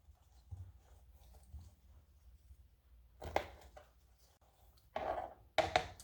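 A knife chops broccoli on a cutting board in a home kitchen, a few sharp knocks at first, then louder bursts of strokes later, over a quiet low hum.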